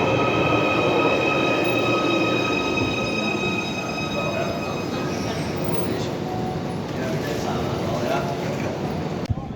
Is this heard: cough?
no